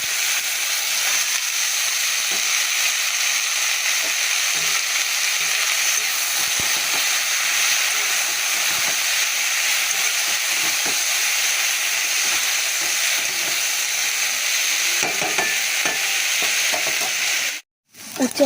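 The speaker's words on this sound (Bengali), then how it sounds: "উচ্ছে ভাজাটা হয়ে এসছে" Bitter gourd and potato slices fry in oil that was already used for frying pointed gourd, giving a steady close sizzle with faint stirring scrapes. The sound cuts out briefly near the end.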